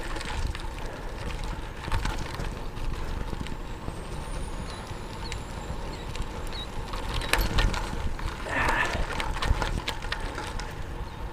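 A road bike on 25 mm tires rolls over rough gravel with a steady crunching, rumbling roar and occasional rattles and bumps, continuous and fairly loud.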